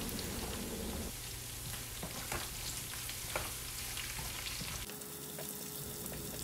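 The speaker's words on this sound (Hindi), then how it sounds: "साथ ही थोड़ी सी अदरक को हम स्लाइस में करके डालेंगे बघार में" Sliced ginger sizzles in hot oil for a tempering of mixed vegetables, a steady crackling fry with scattered pops that thins out near the end.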